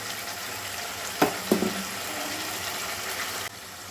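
Small pieces of mutton frying with onions in a pan for a masala curry: a continuous close sizzle broken by a couple of sharp clatters and splashes as the meat goes in, then the frying evens out and drops slightly at the end.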